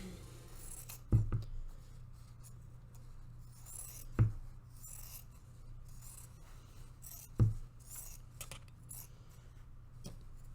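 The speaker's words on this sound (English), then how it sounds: "So I'm going to go around the edge and cut my fabric down, just so that there's less of it to fold over." Scissors snipping embroidery fabric around the edge of a hoop, three crisp, isolated cuts spaced a few seconds apart, quiet and close, with faint rustling of cloth between them.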